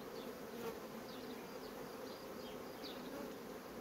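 Honeybees in a hive full of honey, their dense, steady buzzing close and continuous, with individual bees droning past over the hum.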